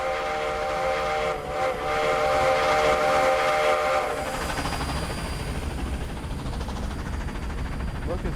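A steam locomotive whistle in the Roblox railroad game 1946 Railroading sounds a loud sustained chord for about four seconds, then fades into rumbling train noise with a faint thin whine.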